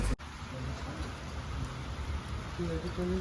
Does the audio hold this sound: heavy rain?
yes